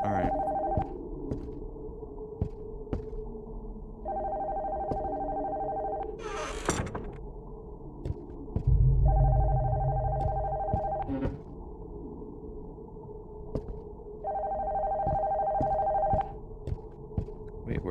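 A telephone rings in repeated bursts in the horror video game Spooky Teddy Bear, with a thudding heartbeat-like throb and a low ambient hum between the rings, and no talking.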